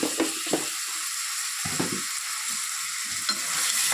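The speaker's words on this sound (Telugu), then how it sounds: "ఇలా వేయడం వల్ల ఏంటంటే కొంచెం ఫాస్ట్గా ఫ్రై అవుతాయి అన్నమాట ఆనియన్స్" Onions frying in a pan while making a prawn fry, a steady close sizzle broken by a few stirring clatters and scrapes, no voices.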